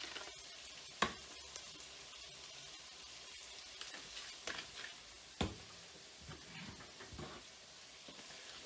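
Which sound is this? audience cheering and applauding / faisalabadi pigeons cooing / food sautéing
food sautéing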